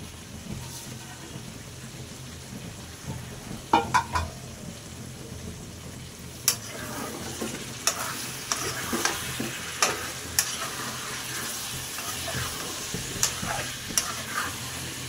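Meat with potatoes and taro frying in a pan, with a steady sizzle under it. A spoon clinks and scrapes as it stirs in scattered strokes, close and moderately loud.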